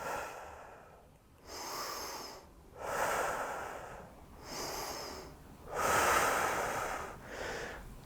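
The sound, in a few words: deep breathing during exercise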